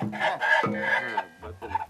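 A chicken clucks in short, loud bursts close by, one after another, in an outdoor comedy scene by a lake, with no voices over it.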